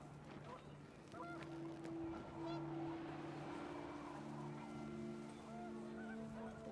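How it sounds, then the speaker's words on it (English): A flock of panicked geese honks in the video game What Remains of Edith Finch, a chorus of repeated calls mixed with wind and steady tonal game sound, fairly faint and continuing for several seconds. "The wind picked up, and panicked geese appeared and quickly went."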